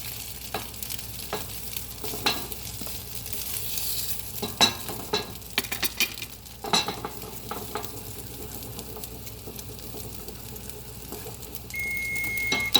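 Spanish tortilla frying in a pan, with a steady close sizzle throughout and occasional clatters and scrapes as it is stirred and turned, plus a brief high beep near the end.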